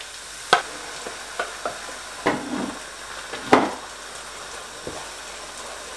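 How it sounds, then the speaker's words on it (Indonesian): Ground chili for rendang sautéing in a pan, a steady sizzle and hiss broken by several sharp scrapes and taps of a stirring utensil, close and fairly loud with no talk. "Kita tumis sampai warna cabainya berubah"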